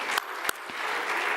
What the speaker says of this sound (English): Please, a round of applause for the planning committee.